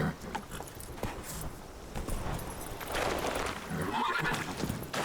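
A Witcher 3 game horse neighs clearly and its hooves clip-clop as it moves, sustained over several seconds at moderate loudness with no speech.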